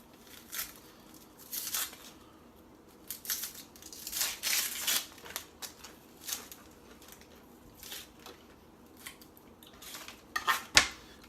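A knife chopping an onion on a cutting board, sparse close crisp cuts and taps in irregular bursts with quiet pauses between, no voices.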